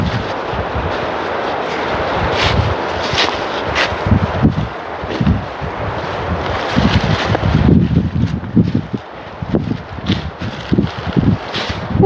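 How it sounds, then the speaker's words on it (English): Strong outdoor wind gusting and buffeting the microphone on a hilltop near trees, loud and continuous with rustling and a few footsteps. "Ooh, I wasn't expecting that wind."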